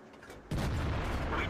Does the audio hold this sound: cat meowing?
no